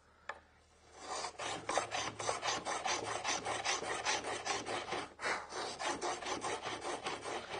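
A wooden dado plane cuts a rebate in wood, guided along a vertical fence, making a steady series of close, loud rasping strokes in quick rhythm with a brief pause partway through.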